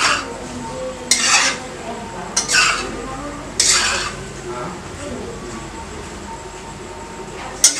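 Macaroni pasta is stirred and roasted in a pan over a high flame, with a few sharp metal scrapes and clinks of the spoon against the pan above a soft background hiss, close up.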